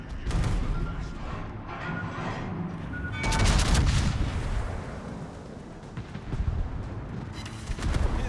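Warship guns firing in the World of Warships naval battle game, a dense rumbling barrage with a heavy salvo burst in the middle over continuous battle noise.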